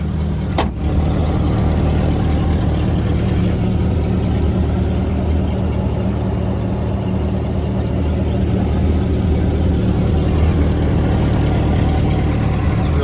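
A 1967 Ford Mustang V8 engine idles steadily and evenly for the whole stretch, a continuous low rumble with one brief click near the start.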